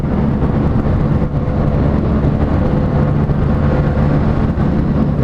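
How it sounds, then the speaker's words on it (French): A loud, steady Yamaha FZ8 motorcycle engine roars close by, a deep continuous drone with no pauses and no voices. "Là il y a une moto derrière, une vraie, un gros cube."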